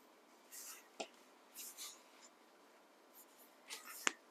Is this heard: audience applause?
no